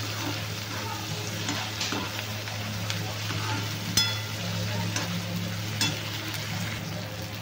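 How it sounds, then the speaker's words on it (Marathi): Chopped tomato frying in a pan, a continuous close sizzle with a low steady hum beneath and sporadic scraping and clicking from stirring, no talk. "आता मी 1 टमाटर कापून टाकलेला आहे आणि आता याला छान असं भाजून घेते"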